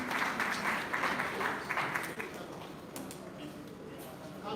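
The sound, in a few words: audience applause for panelists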